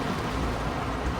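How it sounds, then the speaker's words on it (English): Heavy rain pours in Cape Coral, Florida, a dense, loud, unbroken hiss of drops hitting surfaces close by, with no voices. "I love it when it rains like this."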